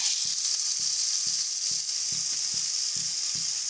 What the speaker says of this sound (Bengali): জলটা দিয়ে এবার দিয়ে দেবো আগে থেকে ভেজে রাখা চিংড়ি মাছটা